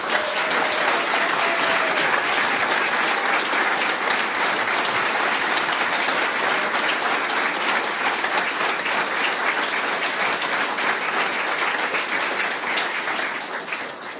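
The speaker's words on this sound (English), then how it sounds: "I think he deserves another round of applause." Sustained audience applause at a Davidson College basketball announcement, a dense, steady roar of many hands clapping for the full stretch before tapering slightly at the end.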